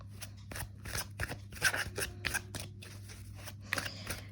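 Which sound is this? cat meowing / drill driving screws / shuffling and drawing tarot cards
shuffling and drawing tarot cards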